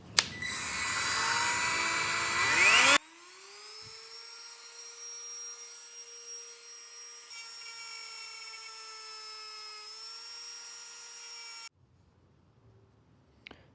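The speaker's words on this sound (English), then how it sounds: "So it's got to be grinded down to fit" A power grinder shaves down a handlebar part on a Yamaha Tenere 700 so Oxford heated grips will fit. About three seconds of loud, harsh grinding give way to a steady high-pitched whine that runs for roughly nine seconds, then stops abruptly.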